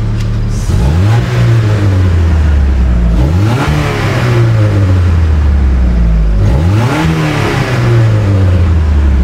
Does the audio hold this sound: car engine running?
yes